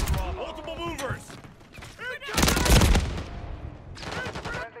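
Submachine gun fire in the Modern Warfare 3 beta shooter game: several bursts of rapid shots, loudest near the middle, with game effects around them and talk through most of it.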